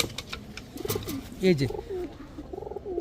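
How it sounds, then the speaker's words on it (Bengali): A pair of white racer pigeons, a male and a female, coo softly in a series of low rolling calls at close range, with faint background noise and no clear speech. "দেখেন দুই ক্লাবের কবুতর"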